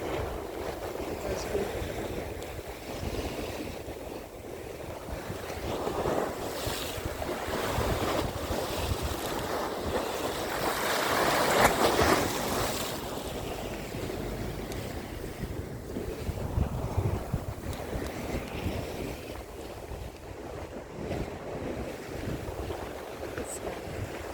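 Sea waves wash in at high tide on Crosby Beach near Liverpool, a steady broadband surf mixed with gusting wind noise on the microphone, continuous and fairly loud throughout.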